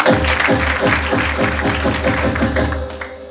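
A church congregation claps together in a dense, rhythmic burst of applause, loud and close, with individual hand claps audible and tapering off near the end.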